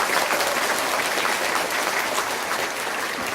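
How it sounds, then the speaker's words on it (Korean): An audience at a regional council policy forum breaks into steady applause, a dense wash of many hands clapping in a hall, moderately loud and even, with no speech over it. "우리 다짐하는 큰 의지의 박수를 한번 함께 쳤으면 좋겠습니다."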